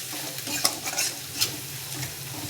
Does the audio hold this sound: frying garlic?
yes